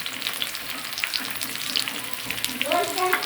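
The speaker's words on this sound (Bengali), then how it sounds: "লাল লাল করে ভাজা হয়ে গেছে এবার আমি এতে বাটা মশলা লঙ্কার গুঁড়ো কাশ্মীর লঙ্কার গুঁড়ো কালার হওয়ার জন্য হলুদ আর নুন দিয়ে দেবো" Spice paste, Kashmiri chili powder, turmeric and salt fry with cauliflower for a yogurt cauliflower roast, making a continuous close sizzle with light crackles and a brief stirring scrape near the end.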